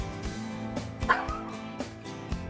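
A pet dog whimpers and whines at a bedroom door during a storm, a series of short high-pitched cries repeating close by over a soft background hum.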